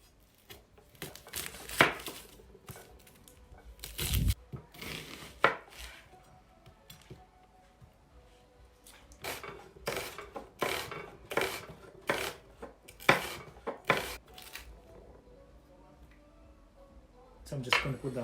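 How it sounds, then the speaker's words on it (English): An onion is chopped with a knife on a cutting board in a home kitchen, giving bursts of sharp, rapid thuds separated by pauses, with a louder knock partway through, close and clear. "Just going to chop the onion"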